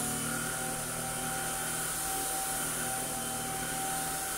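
A Greenote GSC50 cordless vacuum cleaner runs steadily at close range, giving a constant motor whine and airy broadband rush with a high tonal note, with no talking.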